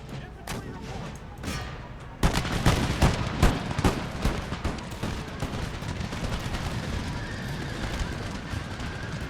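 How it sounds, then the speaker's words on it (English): Dense volleys of musket fire and rapid-firing puckle guns crackle in an Empire: Total War battle, loud overlapping shots that thicken into a sustained barrage, with a voice talking briefly at the start. "We're gonna face a wall of fire right there from our puckle guns and from our men in the house."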